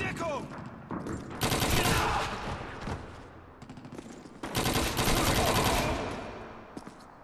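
A Thompson submachine gun in Call of Duty 2 fires .45 caliber rounds in two long, loud automatic bursts. A few scattered single shots fall before and between them, and someone speaks briefly in the gaps.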